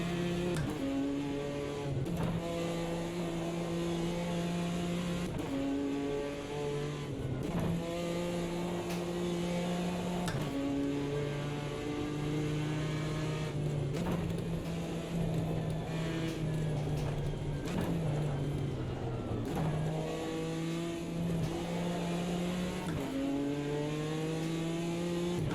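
A Ginetta race car engine in the Automobilista 2 racing game wails through repeated rising revs and quick gear-change dips, steady and distant, with no talk.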